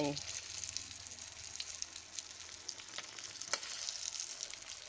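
Fish frying in a wok over high heat, a steady crackling sizzle with small sputtering pops, quiet and continuous with no talk.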